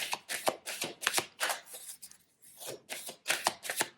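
Tarot cards shuffled by hand for a reading, a run of quick, crisp riffling bursts with a short pause midway, close and clear with no talking.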